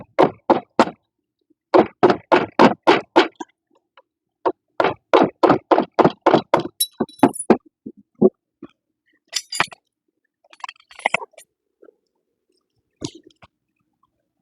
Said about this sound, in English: All we're going to do is we're just going to knock that clip out.